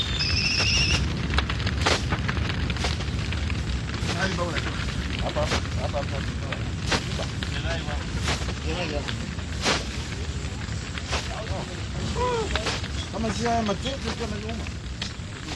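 Grassland fire burning across the African plains of Ngorongoro, a loud continuous roar with crackling and sharp pops throughout, rumbling low and close.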